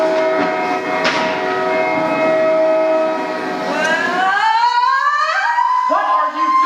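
Loud train sound effect in a stage musical: a sustained rumbling roar with a long blaring horn chord that bends and slides in pitch toward the end, filling the whole clip with no talk.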